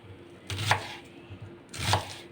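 A knife chopping onions half-moon style on a cutting board for Uzbek pilaf, two short bursts of quick cuts a second or so apart, close and fairly quiet.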